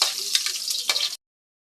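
Garlic and onion hit hot oil with a bright, crackling sizzle and a stirring clatter, loud and close for about a second before cutting off abruptly.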